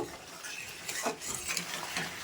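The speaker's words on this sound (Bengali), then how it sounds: "একটু ভালো করে নাড়িয়ে চাড়িয়ে কষিয়ে নেব" Spiced mutton is stirred and sautéed in a pan. Quiet, brief scraping and shuffling of a spoon against the pan sits over a soft sizzle.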